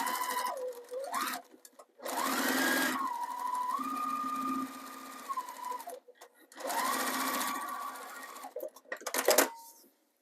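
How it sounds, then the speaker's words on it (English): A sewing machine runs in loud, steady bursts while top stitching a zipper pouch made from candy wrappers, with short pauses between runs and a voice speaking briefly in the gaps. "we'll just give it a top stitch"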